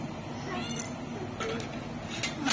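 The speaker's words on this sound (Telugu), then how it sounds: "పెద్ద పిల్లి ఉంది ఒకటి" A big cat meows a couple of short times, close by but soft, over low background noise.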